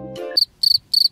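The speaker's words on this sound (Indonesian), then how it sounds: "Jangkrik ternyata guys." Cricket chirping sound effect, heard as three short, bright, evenly spaced chirp bursts right after a brief tonal sound, with no talk over them.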